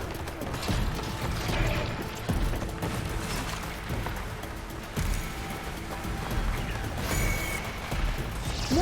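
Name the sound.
robot machines moving in Horizon Forbidden West video game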